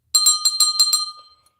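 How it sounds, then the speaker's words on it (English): A small hand bell rings out with about six quick, bright strikes close by, its clear metallic tone fading away after the last one. "Got our little bell here."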